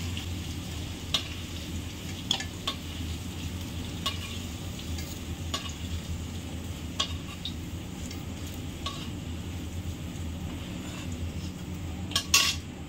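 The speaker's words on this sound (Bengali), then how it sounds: "এই আলুটা লাল লাল করে ভেজে নেব" Potatoes frying in oil in a pan for a spicy fish curry, a steady soft sizzle running throughout with occasional sharp clinks of a utensil stirring against the pan, close and without talk.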